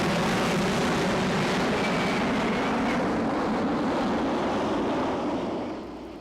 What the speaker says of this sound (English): he is going to deliberately overshoot his hover point in order to show you the Harrier's capability to move backwards through the air